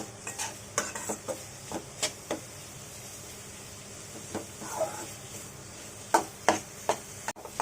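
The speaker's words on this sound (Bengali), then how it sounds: "আমি এখন এটাকে খুব ভালোভাবে কষিয়ে নেব।" Beef liver with ground spices being stirred and fried in a pan for singara filling, a quiet simmering sizzle under repeated scraping taps of a spoon against the pan, near and fairly faint.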